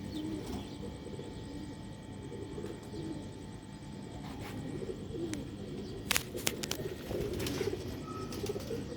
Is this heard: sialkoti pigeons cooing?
yes